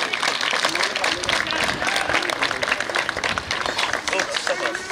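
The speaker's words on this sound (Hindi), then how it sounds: "जोरदार तालियों से उनका स्वागत करिए।" Audience at a blind cricket association ceremony applauding a chief guest: dense, continuous clapping from a crowd, loud and close throughout.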